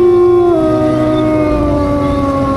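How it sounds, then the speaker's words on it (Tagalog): A neighbor's dog howls at night, one long, loud, close howl that slowly falls in pitch and holds for a couple of seconds, with nothing else heard. "narinig kong umalulong ang aso ng kapitbahay namin"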